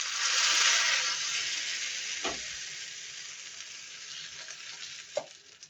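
Mustard seeds, urad dal and curry leaves sizzle in hot oil in a small tempering pan, a steady bright frying hiss that fades slowly, with a couple of brief clinks near the middle and end.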